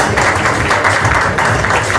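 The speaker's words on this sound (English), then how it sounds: "A round of applause for acting Consul General Varun Jain" An audience claps steadily for acting Consul General Varun Jain, dense and loud applause from a crowd that holds evenly for two seconds.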